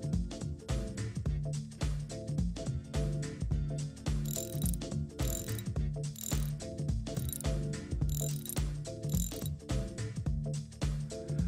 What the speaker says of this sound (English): Using a maximum torque of 70 inch-pounds, pull the boot into the casting.